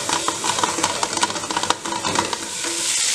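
Chiles and vegetables sizzle in a pan in an enchilada kitchen while being stirred, a steady close frying hiss broken by scraping, clinking strokes of the utensil.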